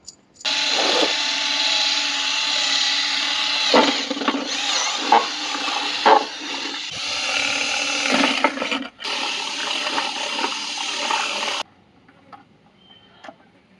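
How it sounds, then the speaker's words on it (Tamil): A power drill whirs steadily for about eleven seconds with brief dips and rattles during an electrical submeter installation, then cuts off, leaving faint quiet clicks. "நம்ம இங்கேயே வந்து அதை ட்ரில் பண்ணி எடுத்துகிட்டு போய்டுவோம்"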